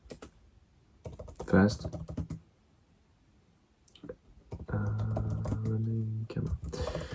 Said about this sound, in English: me typing this shit down